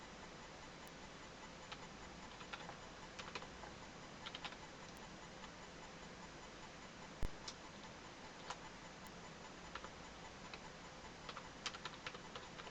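Keys tapped on a computer keyboard while an email address is entered, a faint, irregular run of light clicks with short pauses over a quiet background hiss.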